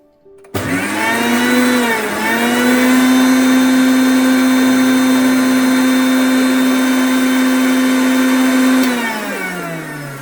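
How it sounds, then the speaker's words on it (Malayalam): Mixer grinder jar grinding roasted coconut, a loud steady motor whine that starts abruptly, rises slightly in pitch, holds for several seconds and then winds down. "അപ്പോൾ അത് ഇതേ മിക്സിയുടെ ജാറിലേക്ക് ഇട്ട് നല്ലോണം ഒന്ന് നമുക്ക് അരച്ച് മാറ്റി വെക്കാം"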